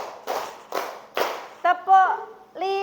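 A group clapping together on a spoken count, three broad unison claps spaced about half a second apart, followed by a voice calling out numbers.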